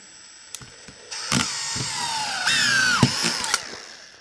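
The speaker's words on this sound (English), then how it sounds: "So it's just a case of start the drill up" A Makita DFR551Z 18V brushless auto-feed screwdriver whirs in short bursts, then runs steadily as the motor pitch drops under load while driving in a screw, close by.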